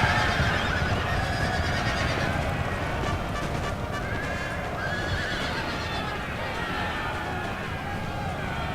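Cavalry horses charging in a Napoleonic war game, with loud whinnying and hoofbeats over a constant battle din, and a voice talking over it throughout.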